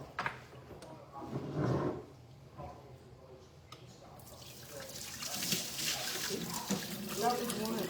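Water runs from a sink tap during dinner prep, starting faintly with drips and then a steady rushing stream in the latter half, with people talking over it.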